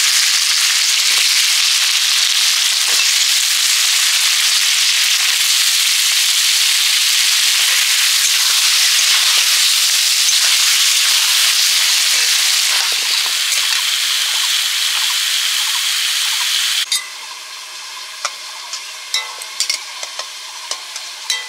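Vegetables frying in hot oil in a pan, with sweet pumpkin and drumstick stalks in the dish: a loud, continuous roaring sizzle that drops late on to softer scattered crackles and pops.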